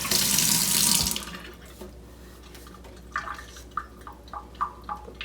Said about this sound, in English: Get the towels wet again.